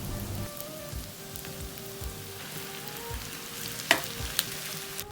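Pork belly added to shallots in a pan over high heat, frying with a steady, even sizzle and crackle throughout, plus a few sharp pops and clinks near the end, with no talking.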